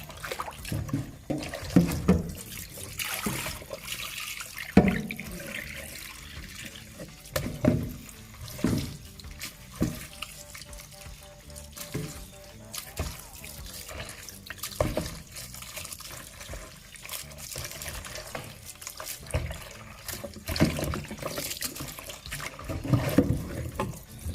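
Sea moss rinsed under a running kitchen tap, water splashing steadily into a sink for a long stretch with uneven surges and handling noises, no talking.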